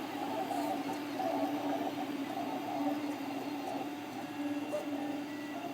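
A 3D printer at work building up layers, its stepper motors giving off a faint, steady tonal whir with gentle fluctuations that continue throughout.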